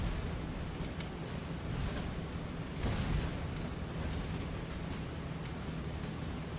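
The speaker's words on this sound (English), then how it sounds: "There's the flak." Flak bursts from anti-aircraft fire in a flight combat game, heard as a steady dense rumble with soft muffled thuds and one stronger burst near the middle, continuous and moderately loud.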